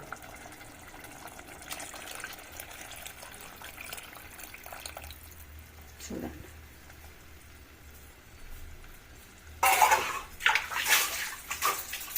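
Water poured into a cooking pot of bhindi-style tamarind pulusu with dumplings, a brief splashing pour near the end after quieter kitchen ambience.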